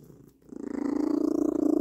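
A cat purrs loudly and close up, a rhythmic, rapidly pulsing rumble that swells in after a brief quiet moment and continues steadily.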